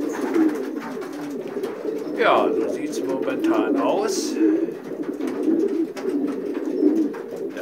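Racing pigeons coo in a loft in late-February cold of about minus 17 degrees, a steady low murmur of cooing running throughout beneath someone speaking German.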